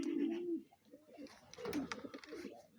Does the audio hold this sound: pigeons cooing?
yes